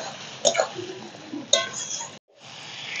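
Water tipped off a plate into a simmering potato and pointed gourd curry, with two short close splashes and a wet, bubbling sizzle in between, then a brief silence before the pan noise returns.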